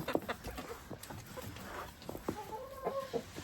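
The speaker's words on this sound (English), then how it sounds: "Hey, Rooster. How you doing, bud?" Backyard homestead chickens cluck softly and repeatedly nearby, with a rooster's low rhythmic clucks and a brief higher call near the end, fairly faint overall.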